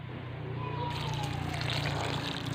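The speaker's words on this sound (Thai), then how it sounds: "จะเทออกก่อนเนาะค่ะเทน้ำออกก่อน" Water pours out of a clear plastic bottle in a steady, close splashing rush with a continuous low background hum and no voices.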